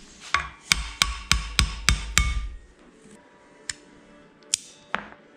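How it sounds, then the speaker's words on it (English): A hammer taps on the original positioning pins to drive them out of a flywheel for a Ford V6 to BMW ZF/Getrag gearbox adapter, six sharp metallic strikes in a steady rhythm, then a few lighter, spaced taps. "I found the easiest way to do this is just hammer them like so"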